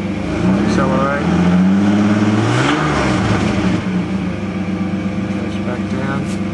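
A car engine fitted with an HHO cell revs and accelerates, its rising engine tone loud and close, then settling to a steady hum, with someone speaking over it.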